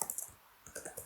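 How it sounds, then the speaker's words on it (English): Typing on a computer keyboard gives a short, close burst of crisp key clicks, a quick run of taps, a brief lull, then more taps, with no voices. "And I will start by typing the title again here"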